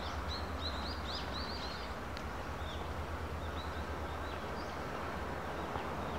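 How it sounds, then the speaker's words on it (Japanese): Birds chirp and sing faintly at sunrise on Ohki beach, scattered short calls over a steady low wash of surf and distant boat engine. "いろんな鳥の声が聞こえ"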